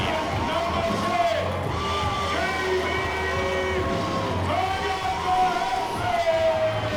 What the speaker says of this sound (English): You can hear the crowd, what they think of Jamie Tagadese.